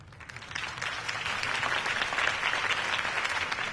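Applause from a crowd greeting Harvey Dent's campaign speech in Batman: The Telltale Series, a steady wash of clapping sustained throughout at moderate volume.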